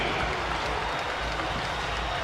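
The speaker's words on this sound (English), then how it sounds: "This pro Siena crowd in Albany loving the start to this one." A pro-Siena basketball crowd in Albany at a MAAC championship game claps and cheers in a dense, continuous wash of applause that fills the arena.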